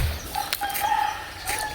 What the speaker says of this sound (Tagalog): Tsaka dyan yung mga manok.